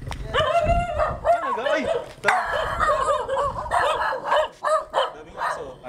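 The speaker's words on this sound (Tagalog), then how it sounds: "Daming aso." Several dogs bark and yip close by in short, uneven bursts, with people chatting over and between the barks.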